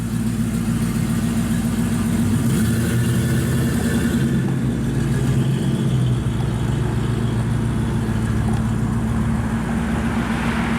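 A 1973 Pontiac Formula Trans Am engine runs steadily and loudly up close, with a deep, rumbling exhaust note that surges slightly, no talking over it.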